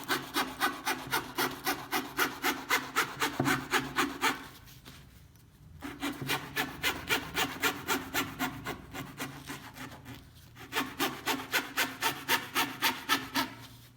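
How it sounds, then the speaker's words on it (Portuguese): A hand saw cuts steadily through a stacked sandwich of marquetry wood veneers, its rapid, even rasping strokes close and clear, running in bursts with two short pauses. "Enquanto o sanduíche é girado, manter a serra serrando no mesmo ponto."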